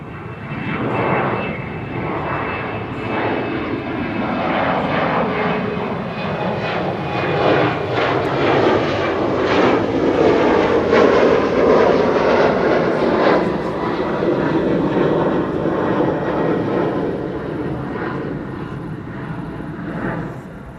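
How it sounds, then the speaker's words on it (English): A KLM Embraer 190 jet takes off from Schiphol's Kaagbaan runway 24, a swelling engine roar with a shifting whine that builds to a peak mid-clip and then slowly fades as it climbs away. "KLM flight 1079, Embraer 190 to Bristol."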